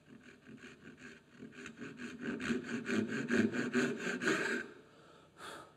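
A hand saw cuts a dovetail joint in wood clamped low in a vise, with rhythmic rasping strokes that grow louder and then stop, heard up close with no talking.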